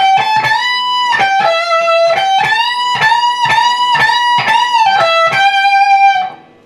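An electric guitar with distortion plays a call-and-response lick, with steady picked and bent notes in a quick rhythm, loud and close with no talking.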